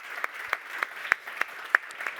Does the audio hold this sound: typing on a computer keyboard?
no